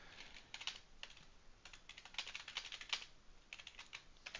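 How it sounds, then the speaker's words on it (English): Quiet, rapid clicking of a computer keyboard being typed on in irregular bursts, fairly close and alone with no voices. "I know you can hear my keyboard."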